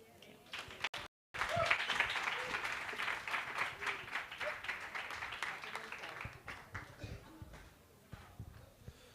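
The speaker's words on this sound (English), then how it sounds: "Can we please give Monique another round of applause?" Workshop attendees applaud in a long burst of clapping that swells after a brief dropout, then thins into scattered claps with some shuffling and voices toward the end.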